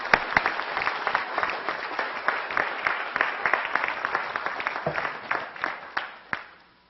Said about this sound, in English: They all deserve a great round of applause.